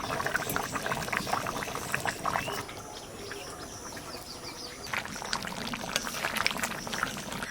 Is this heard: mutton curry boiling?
yes